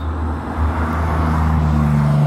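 Steady road traffic noise in the San Gabriel Mountains, a loud continuous engine drone with low tonal hum as vehicles pass close by, no voices.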